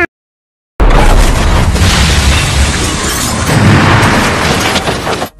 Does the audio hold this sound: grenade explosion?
yes